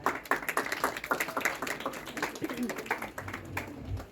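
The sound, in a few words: applause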